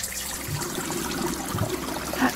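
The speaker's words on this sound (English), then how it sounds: "Oh! Water!" Water splashing and trickling in the video game Doors Paradox, a steady close-up churn of liquid with small gurgles and a brief louder splash near the end.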